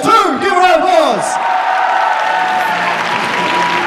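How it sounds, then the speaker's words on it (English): Audience applause and cheering at a Supanova Perth cosplay contest, steady clapping throughout while a loud voice calls out over the first second before the crowd noise continues alone. "Give her a applause."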